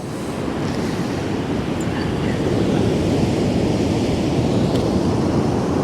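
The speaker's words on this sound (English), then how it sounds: "What a sea." Rough sea pounds North Donmouth Beach in Aberdeen, a continuous loud roar of breaking surf mixed with wind buffeting the microphone, with no voices heard.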